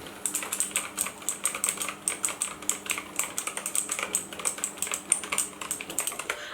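Fast, continuous typing on a cheap, clanky gaming keyboard, with dense rapid key clacks at close range and no voices.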